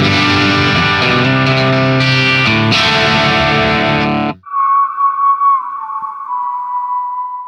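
A self-made Telecaster with Sheptone Tele pickups played through a Quad Cortex British amp model: a loud, dense distorted chord that cuts off abruptly, then a thin sustained single note that wavers and fades.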